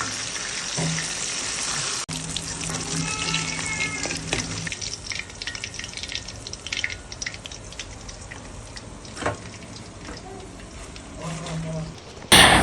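Chicken wings fry in hot oil on a stove burner turned up high, giving a steady, close crackling sizzle full of fine pops that runs throughout, with a voice briefly heard over it.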